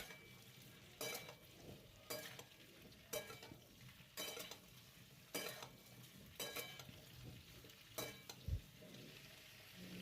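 Mixed winter vegetables with cauliflower lightly frying in a pan for khichdi, a soft continuous sizzle broken by regular sharp stirring scrapes about once a second, close and moderately quiet.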